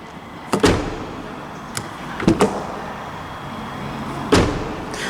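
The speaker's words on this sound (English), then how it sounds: "whenever I open or close the door, it sounds like it has something in common with what I've seen of the Qashqai" A Nissan Ariya electric car door opens and shuts several times, each a solid thump or latch click, sharp and close, with quiet gaps between them.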